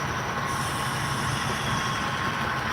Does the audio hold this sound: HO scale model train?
yes